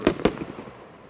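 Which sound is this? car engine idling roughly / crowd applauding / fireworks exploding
fireworks exploding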